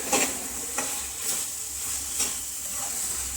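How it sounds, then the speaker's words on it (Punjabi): Macaroni roasting with spices in a pan for a mixed vegetable dish, a steady close sizzle broken by a few scraping stirs of a utensil, with no voices. "2 ਮਿੰਟ ਵਾਸਤੇ ਮਕਰੋਨੀ ਪਾ ਕੇ ਆਪਾਂ ਭੁੰਨਾਂਗੇ"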